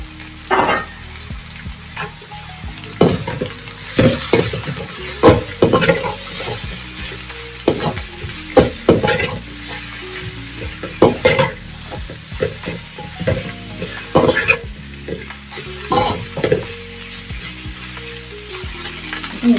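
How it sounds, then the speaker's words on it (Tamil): Cabbage and carrot sautéing in a pan for a healthy noodle dish, with steady sizzling and repeated scraping stir strokes throughout, fairly close and loud, no talk. "கோஸ், கேரட் எல்லாத்தையும் நல்லா போட்டு அப்படியே வதக்கலாம்"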